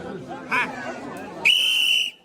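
A single sharp, shrill whistle blast starts a village tube-crossing race on a river. It cuts in loud and holds for over half a second after a stretch of crowd chatter and outdoor voices.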